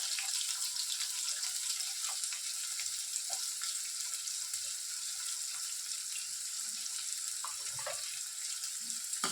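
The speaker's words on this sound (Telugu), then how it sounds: "ఆనియన్స్ బాగా బ్రౌన్ కలర్లో వచ్చేంత వరకు వేయించుకోవాలండి" Chopped medium onions frying in a pan for a potato and drumstick curry give a steady, soft, hissing sizzle throughout, fairly quiet and continuous, with a few faint clinks.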